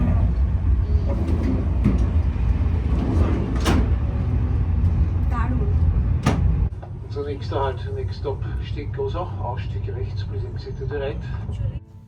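A passenger train travels between Vienna and Hallstatt in Austria, with a deep steady rumble inside the carriage, a few sharp knocks, then a quieter stretch where murmuring voices rise over the ride.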